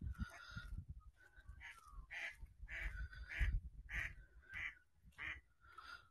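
Ducks quack repeatedly on a misty lake in the early morning, a run of short, nasal calls spaced about half a second apart over low rumbling background noise, with no talking.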